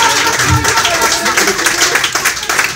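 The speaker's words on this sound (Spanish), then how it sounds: "si van a aplaudir, aplaudir todos" Audience applause at a live talk, continuous clapping from many hands that stays loud and dense and blends into crowd noise with voices present.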